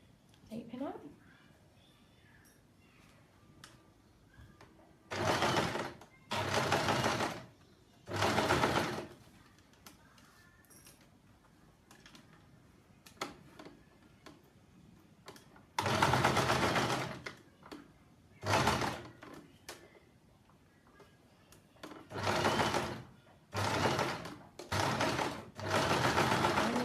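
Household sewing machine stitching in short, loud bursts during a beginner's sewing lesson, several stop-start runs close by, with people talking quietly in between.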